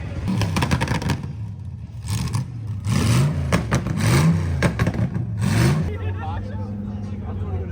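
A Toyota Hilux engine revs hard up toward its rev limiter, loud rising and falling surges with mechanical clatter, while people talk over it.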